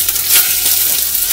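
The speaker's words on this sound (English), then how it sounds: "I'm gonna start adding my chicken wings to the pan, and as you can already hear the sizzle" Chicken wings sizzle steadily in a hot pan, a loud continuous crackle and hiss up close with no voices.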